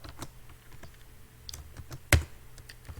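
Keystrokes on a computer keyboard while writing Java code for a calculator app in Android Studio: sparse, quiet clicks in an irregular rhythm, with one sharp, louder key strike near the end.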